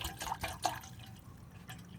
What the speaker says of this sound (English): Get some water on the brew.